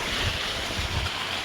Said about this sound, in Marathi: ऊसाला पाणी पाजायचं चाललं बघू शकता